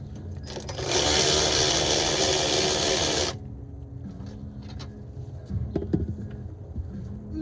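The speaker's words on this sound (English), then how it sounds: "All right, so I'm gonna loosen this, shake it around a little." Metal exhaust parts on a Mazda Miata are loosened and shaken, giving a loud, dense mechanical rattle for a few seconds, then quieter clunks and knocks.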